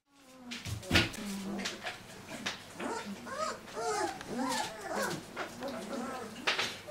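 Several weeks-old puppies whimpering, yipping and yapping in high, wavering cries close by, with a person talking over them.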